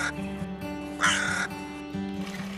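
A crow caws loudly in a short burst, with quieter harsh calls before and after over a steady tonal background of music.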